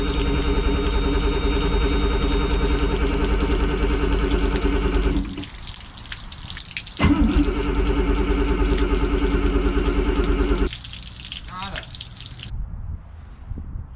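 A 1987 Formula F-242 SR1 speedboat engine, tested on water, rumbles at a steady idle, cuts out briefly, then catches and runs again before dropping off, with some splashing water.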